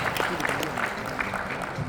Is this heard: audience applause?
yes